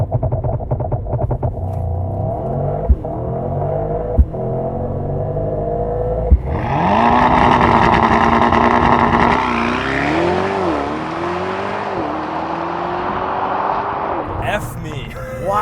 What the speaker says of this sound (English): The all-new 2024 Mercedes AMG GT63. 4MATIC Plus with race start.